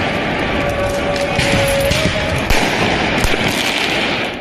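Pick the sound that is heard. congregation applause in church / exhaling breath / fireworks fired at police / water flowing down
fireworks fired at police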